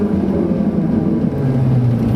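Ferrari 458 Italia pulling away on a damp road, a steady engine drone with a low tone that rises as it accelerates, close and loud with no voices.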